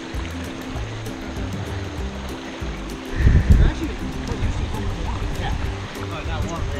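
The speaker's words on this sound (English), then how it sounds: "Found this awesome creek." Tyndall Creek, a mountain stream along the John Muir Trail, rushes steadily in the background with a brief louder splash midway, while people talk nearby over the flowing water.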